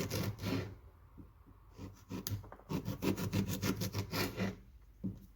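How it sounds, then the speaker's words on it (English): A knife slices through fresh ginger with the skin on, giving repeated rough rasping cuts against a board, close and fairly quiet, with short pauses between strokes. "Next up, let's slice a ginger like so."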